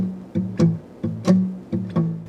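An acoustic guitar plays a short blues boogie riff, with three repeating rhythmic figures of plucked low notes and bright strums, played alone and close.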